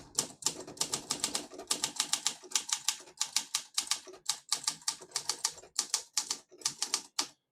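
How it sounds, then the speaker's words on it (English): Typing on a 1959 Olympia SM3 vintage portable manual typewriter: a steady run of sharp, close key strikes in quick irregular bursts with brief pauses, loud and clear with no talking. "Beautiful type machine, excellent condition all the way around."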